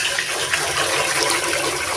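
Tap water running steadily in a kitchen while rice is washed, a constant close rushing stream with no breaks or voices.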